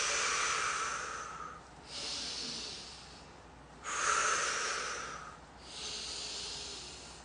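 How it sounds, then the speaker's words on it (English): Deep breaths drawn in through the nose during a fascial facelift exercise routine: four long, airy inhalations, each lasting over a second, close and fairly soft, with brief pauses between them and no talking. "breathe in my nose for 6 big breaths"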